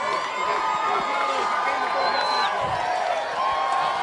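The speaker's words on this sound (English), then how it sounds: "the crowd's starting to make a lot of noise here" Dense roar of a football crowd at a Georgia game, broad and continuous, swelling with cheers and shouts throughout, with voices mixed into the noise.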